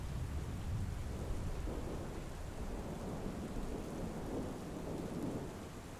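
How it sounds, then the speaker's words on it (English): Steady rain pours over a continuous deep thunder rumble, with the low roll swelling and easing for the full six seconds and no voices. "Looks like rain, don't it? I say, is it raining?"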